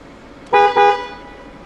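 A 1996 Mercedes-Benz SLK 230 Kompressor sounds its car horn in two short, loud, close honks, a brief gap between them, with quiet surroundings and no talking.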